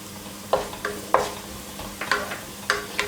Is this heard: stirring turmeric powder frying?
yes